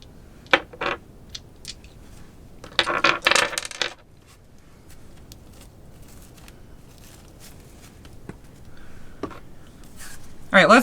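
Dice and small charms are cast onto a surface in scattered clicks and rattles, with a dense clattering burst midway and a final jingle, separated by quiet stretches.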